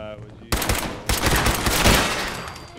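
Pipe pistol gunfire in Fallout 4 sounds as loud, close bursts, with one sharp report followed by a denser, sustained volley of shots and a rumbling tail.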